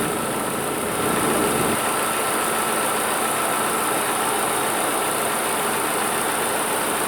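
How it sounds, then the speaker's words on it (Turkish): A Peugeot 307 engine runs at a steady idle with a continuous broadband hum and vibration, close and fairly loud, with no talking. "Motor da çok titriyor."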